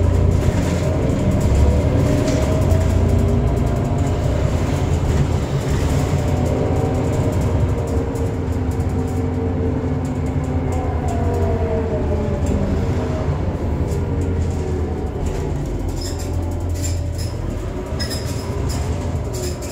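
Train running through the station at Aulnay-sous-Bois, a loud continuous rumble of rolling stock with rattling wheels and faint squeals, steady throughout with no talk.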